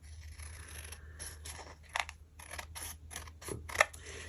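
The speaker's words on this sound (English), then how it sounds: "Now I'm going to take some bigger scissors." Several crisp snips of scissors cutting through card, spaced irregularly, close by and fairly quiet, with a faint steady hum underneath.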